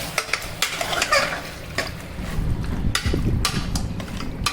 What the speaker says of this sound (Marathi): तर आता हे आपण थोडंसं हलवून घेऊया.